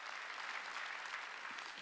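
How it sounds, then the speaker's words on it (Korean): A congregation at a Wednesday church service claps together in a dense, even burst of applause heard from a moderate distance, with no voices over it. "박수다."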